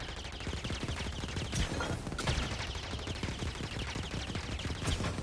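Blaster gunfire in Star Wars Jedi: Fallen Order, a dense, continuous rattle of rapid shots at steady moderate loudness, with no voices over it.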